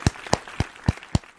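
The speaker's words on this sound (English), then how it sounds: "Let's give Shannon, aka Nora Sharp, a round of applause." Clapping in honour of a crossword constructor during a live puzzle-solving stream, heard as five sharp, evenly spaced claps about a quarter-second apart, fairly close and clear, with no talk over them.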